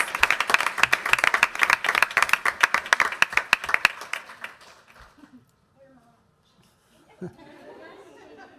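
A school board meeting audience gives a dense round of clapping for teachers that fades out after about four seconds, leaving quiet murmurs and room noise.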